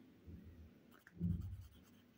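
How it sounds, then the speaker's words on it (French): A pen or pencil writes on paper in a quiet room, making a soft, close scratching that swells briefly in the second half. "Donc, ici, on va écrire il s'agit d'une"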